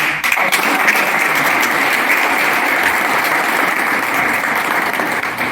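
A village gram sabha crowd in Garwadi claps steadily and densely for about five seconds, a loud, unbroken wash of many hands with no voices over it.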